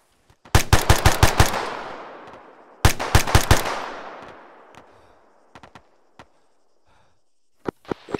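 Airsoft guns fire during a military simulation game with a squad, in two fast bursts of about eight and five shots each, ringing out close and loud, followed by scattered single shots trailing off into quiet.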